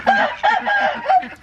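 Rhode Island Red hens clucking close by inside a barn, a steady run of overlapping murmuring clucks and short squawky calls with a little farmyard background.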